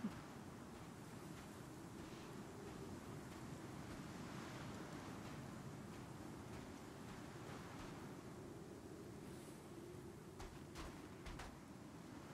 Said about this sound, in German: Mann, dieser Wind